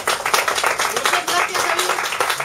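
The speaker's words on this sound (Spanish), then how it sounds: "¿Le damos un aplauso a mi ayudante?" An audience at a children's storytelling show claps for the storyteller's helper, giving a short burst of dense, even applause with voices mixed in.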